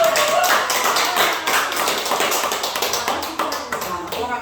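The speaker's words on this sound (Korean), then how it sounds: "박수 크게 한번 하고." A congregation at a Korean church's Wednesday prayer meeting claps loudly together, a dense, steady roar of many overlapping claps filling the whole stretch without a break.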